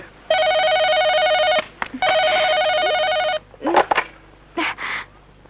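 A telephone rings loudly indoors during a movie scene, with two long electronic ring bursts separated by a brief gap. A few short clattering handling sounds follow.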